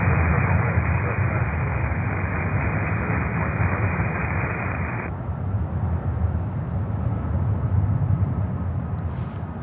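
Steady, loud broadband roar of a Saab turboprop airliner at Miami airport, a constant close engine rush that holds for the whole stretch, its upper hiss dropping away partway through.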